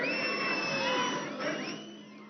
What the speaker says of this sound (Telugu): బాగా కొట్టాలి చప్పట్లు